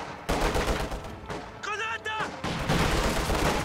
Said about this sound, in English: so we can start shooting out at these guys